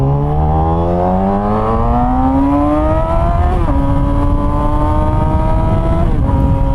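A Yamaha R6 sport motorcycle engine revs hard during a ride. Its loud, close whine climbs steadily in pitch, dips briefly at each upshift and climbs again over steady road and wind roar.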